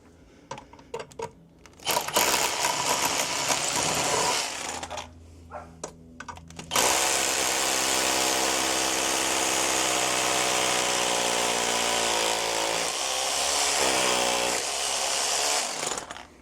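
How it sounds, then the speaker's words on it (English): A powerful SDS drill roars into concrete in long sustained bursts, with short clatters and clicks between runs, loud and close. "an SDS drill, which is way more easier for drilling into concrete than a standard hammer drill"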